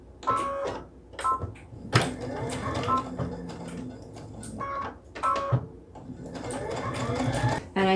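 Sewing machine stitching the seams of a Halloween treat bag, close rapid mechanical bursts starting and stopping in several runs, with brief pauses and small clunks between.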